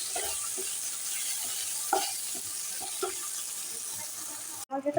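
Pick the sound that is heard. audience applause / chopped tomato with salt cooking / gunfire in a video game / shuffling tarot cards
chopped tomato with salt cooking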